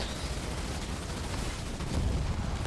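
Machine gun fire in Halo Wars 2 comes as dense, continuous rattling bursts over a battle din, loud and unbroken, swelling slightly toward the end.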